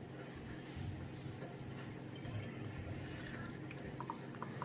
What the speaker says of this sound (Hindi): सबसे पहले हम इसके अंदर वाटर डालेंगे